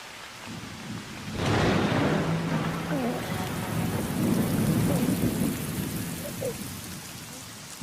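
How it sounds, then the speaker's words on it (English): Steady heavy rain pours down through a thunderstorm, with a loud rumble of thunder rolling in early and the downpour continuing close and dense throughout. "the rain is a blessing brought by your birth"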